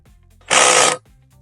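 A single short, loud burst of a power ratchet spins out the last torque converter bolt on a 2018 Range Rover Velar with a stretched timing chain, about half a second of close whirring in a quiet workshop.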